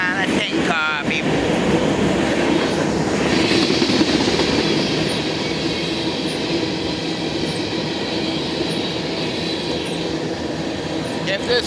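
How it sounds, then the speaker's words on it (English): A long BNSF freight train led by three locomotives rumbles past pulling a line of tank cars, a loud continuous roar of rolling wheels with rail clatter and faint squeals, close to the listener, with a voice talking briefly near the start. "That is a big BNSF engine, or 3 of them. That's a big ass long line of tank car people."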